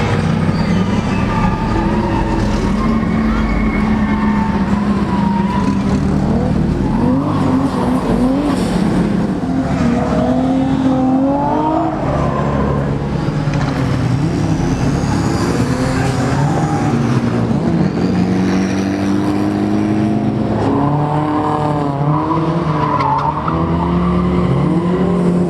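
LS V8 swapped IS300 drift car heard from inside on a ride-along, a loud continuous engine roar rising and falling with revs while tires skid and screech throughout.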